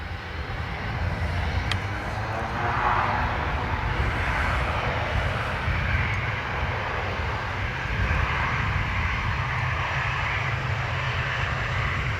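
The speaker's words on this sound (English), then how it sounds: "The ATR cleared for departure to Edinburgh." An ATR turboprop departing Dublin for Edinburgh in soggy, gusty crosswind weather gives a steady, fairly distant engine drone, low and even throughout with no speech.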